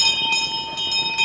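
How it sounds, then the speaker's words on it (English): A last-lap bell rings at a harness race, a steady metallic clanging repeated quickly over crowd and track noise, fairly loud and close, with no talk. "they're having the bell this time."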